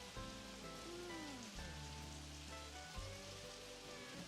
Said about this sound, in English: Just like listen to the sounds of the rain.